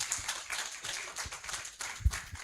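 Audience applause at a national forum, faint scattered hand clapping from a room, steady and distant for a couple of seconds.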